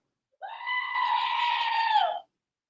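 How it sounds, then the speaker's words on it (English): A single long, loud goat bleat that sounds like a human scream, close and sustained for nearly two seconds, then silence. "Warning, screaming goat."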